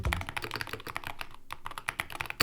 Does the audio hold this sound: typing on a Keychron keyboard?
yes